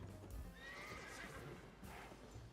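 A horse in a video game whinnies in a long, wavering neigh over a steady background hum, with a soft hoof clop near the start.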